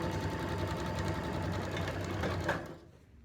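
A sewing machine stitching a two-layer fabric mask a quarter inch from the edge, a fast steady motor whir with needle clatter, close and alone, stopping abruptly near the end.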